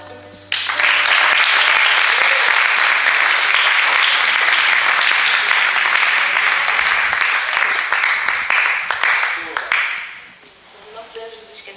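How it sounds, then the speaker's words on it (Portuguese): Auditorium audience at a women's poetry event bursts into loud, sustained applause that fills the room for about ten seconds, then fades with scattered claps and voices. "Para todos eles, uma forte salva de palmas."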